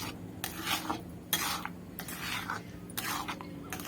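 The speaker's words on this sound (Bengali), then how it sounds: "তো এর মধ্যে যে ছেঁকে রেখেছিলাম আমটি এর মধ্যে দিয়ে দিলাম, দিয়ে এটিকে ভালোভাবে নাড়াচাড়া করে নিচ্ছি" Strained raw mango pulp being stirred into caramelised sugar in a pan, rhythmic scraping and rubbing strokes in bursts about once a second, close and moderately loud.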